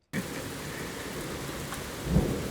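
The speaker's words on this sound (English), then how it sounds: "this is no different than rain we've ridden in before" Heavy rain pours down steadily at a campground in Sulphur, Oklahoma, as a dense, close hiss with a low rumble swelling near the end.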